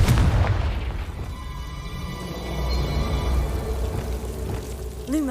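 The Confringo blasting spell in the video game Hogwarts Legacy, a loud deep booming explosion that rolls and rumbles for several seconds before fading, ending with a short whooshing swell.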